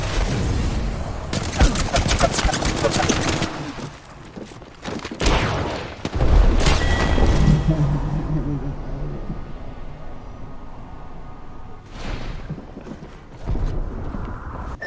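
Frag grenade blast and gunfire in a ranked shooter video game: bursts of rapid automatic fire, a heavy booming explosion, and loud shots returning later, with voices talking throughout.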